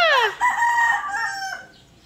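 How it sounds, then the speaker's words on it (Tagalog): A rooster crows once, loud and close, its long drawn-out call fading away into quiet. "Nandito na naman yung rooster, guys."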